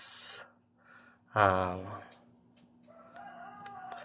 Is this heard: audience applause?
no